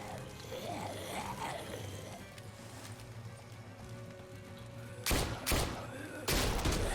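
Gunfire aimed at the player in The Walking Dead: A New Frontier, Episode 5, with sharp bursts of shots late in the clip over a steady bed of game ambience and background noise.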